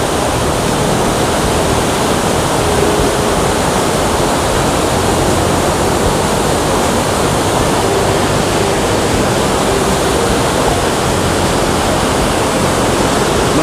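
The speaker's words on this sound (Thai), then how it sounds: "นี่คือน้ำตกตาดีพีเนาะ" Tad Li Phi waterfall in Laos pours in a steady, loud broadband roar that holds unbroken throughout, with no voices over it.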